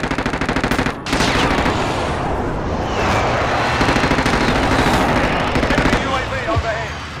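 Loud, sustained automatic gunfire on Rebirth Island in the video game Warzone: rapid bursts of shots layered into a heavy, nearly continuous barrage.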